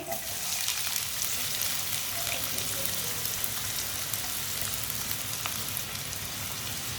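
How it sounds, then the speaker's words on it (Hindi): Two finely chopped onions fry in oil over a lowered flame for stuffed bitter gourd, a steady close sizzle with faint crackles and occasional stirring, no talking. "प्याज को हल्का सा ब्राउन कर लेंगे"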